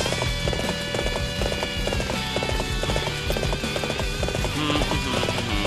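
Rapid hoofbeats of a galloping horse in Dynasty Warriors 7 clatter rhythmically over a dense, continuous backdrop of game music and ambience, with an occasional whinny.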